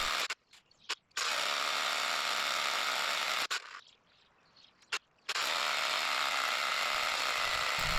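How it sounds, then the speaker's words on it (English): A cordless drill bores into small rock in a ditch to prepare a blast hole, its steady loud whine running continuously with a couple of brief stops and a quieter stretch in the middle. "It takes forever with the cordless drill"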